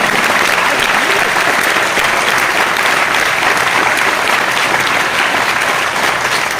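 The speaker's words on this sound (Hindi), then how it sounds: "बजाओ ना ताली मां के लिए" An audience claps in a loud, dense, sustained burst of applause that stays steady throughout, with no one speaking over it.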